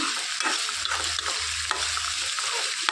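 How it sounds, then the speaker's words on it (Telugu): Onions frying in hot oil in a pan as they are stirred, a loud continuous sizzle with soft scraping strokes of a spoon recurring every second or so. "ఉల్లిపాయలు అనేవి 2 నిమిషాల పాటు వేయించుకోవాలి."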